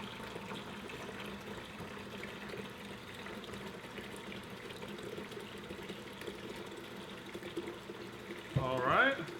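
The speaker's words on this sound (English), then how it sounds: "I'm going to fill this up with water" Water is poured into a 5-gallon fish tank, a soft steady trickling flow heard close and low, with a brief louder splash and a voice near the end.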